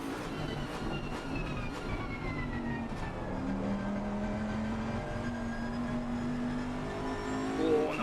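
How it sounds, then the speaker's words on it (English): A Bentley GT3 race car in Assetto Corsa Competizione, racing at Monza, accelerates hard down a straight, its engine note rising steadily through the gears as a continuous, loud drone with no talk over it. "And now we see the Bentley open up the taps, absolutely going for it."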